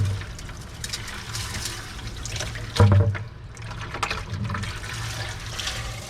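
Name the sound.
water rinsing through sieves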